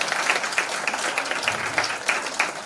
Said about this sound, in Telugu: చాలా గట్టిగా చప్పట్లు కొట్టండి అందరికీ.